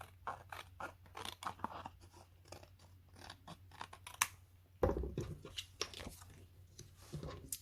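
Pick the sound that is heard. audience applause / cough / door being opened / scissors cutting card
scissors cutting card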